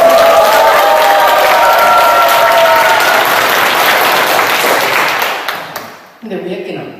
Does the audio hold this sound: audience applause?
yes